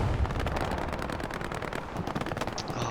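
Machine gun fire from an MG support position in a competitive shooter match, with rapid dense bursts of rattling shots and booming impacts, loud and continuous throughout.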